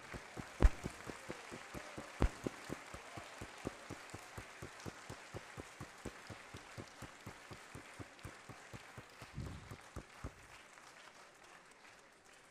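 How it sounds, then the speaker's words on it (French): A crowd applauds Thierry Maison at the opening ceremony of the 24 Heures de Saint-Jo, 2024, with a faint, even, rhythmic clapping that keeps a steady beat throughout. "Je vous demande de l'applaudir bien fort."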